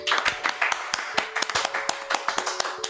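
Sparse, irregular hand claps from a small group, a few close sharp claps scattered over three seconds, with a steady hum underneath.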